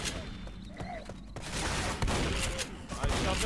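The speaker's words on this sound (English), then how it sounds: "I shot a wall" Rapid bursts of gunfire from Left 4 Dead, several sharp shots in quick succession, loud and close, over game noise with faint voices.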